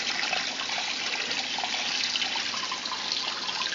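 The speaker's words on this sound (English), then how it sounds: "I really make sure that I get as much rinse water into the clothes as I can" Rinse water pours steadily into a Canadian-made Simplicity twin tub washer, a continuous close rushing and splashing flow without pauses or voices.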